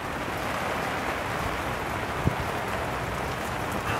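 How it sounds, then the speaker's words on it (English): Heavy rain pours down steadily outdoors, a dense continuous hiss of drops with one brief louder tap partway through and no talking. "it starts pouring again."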